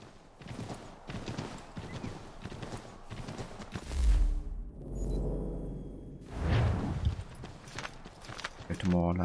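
A horse's hooves clip-clop in a video game in steady, rhythmic strides, with a whooshing rush and snorting noises between them. The hoofbeats are fairly close and sit under ongoing speech.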